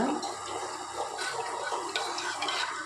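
Water is poured from a vessel into a cooking pot for moong dal payasam, splashing with a steady wet rushing sound close by with faint clinks, no voices.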